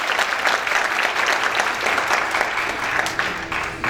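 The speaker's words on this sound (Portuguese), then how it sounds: "Uma salva de palmas para o Espírito Santo, o autor dessa obra." A church congregation claps in sustained, dense applause that stays loud and even throughout, with faint voices mixed into the crowd.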